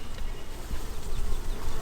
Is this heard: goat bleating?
no